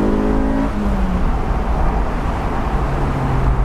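Honda S2000 naturally aspirated engine, a loud close car engine note holding and shifting pitch as it revs, steady and continuous with no talk.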